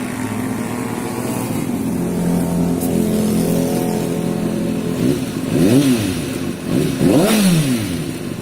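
A 2005 Kawasaki ZX6R 636 motorcycle engine warms up at a loud, steady idle close by, then revs up sharply twice near the end, each rev rising and falling quickly.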